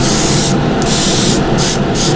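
Aerosol spray paint hissing onto a frog fishing lure, a loud steady close hiss in several bursts with brief pauses between passes.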